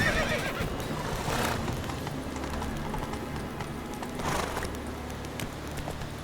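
A horse in The Witcher 3 whinnies loudly near the start and again around the middle, while its hooves clop in a steady rhythm underneath, with faint game ambience behind.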